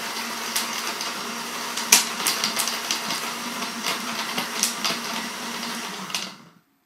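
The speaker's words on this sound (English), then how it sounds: "Just blend that up." A cheap blender whirs through dates and water for a smoothie, a steady mid-loud motor whine with clattering bursts as the contents churn, then stops abruptly.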